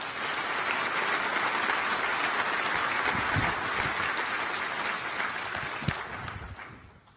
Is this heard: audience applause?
yes